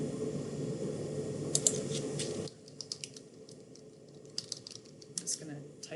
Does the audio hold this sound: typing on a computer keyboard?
yes